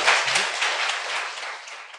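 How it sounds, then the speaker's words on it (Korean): Studio audience applauding at the close of a guest's appearance on a Korean political talk show, a dense steady patter of many hands that swells at the start and slowly thins over two seconds, with no talk over it. "박수 부탁드립니다."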